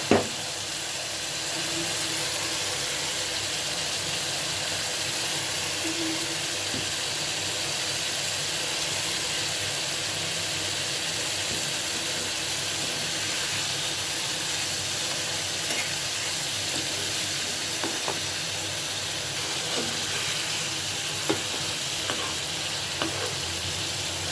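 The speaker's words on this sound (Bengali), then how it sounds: "মশলাটা আমার কষানো হয়ে গেছে এখন আমি এখানে চিংড়ি দিয়ে দিচ্ছি" Prawns sizzle in a pan of fried masala for a chiṅṛi dopeyaja, giving a steady, close hiss of frying that runs without a break, with a few faint clicks of a utensil near the end.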